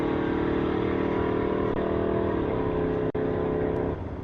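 Loud, sustained engine roar from drag cars at the strip, a Pontiac Firebird among them, the pitch shifting slightly as they run, with a brief sharp dropout near the end.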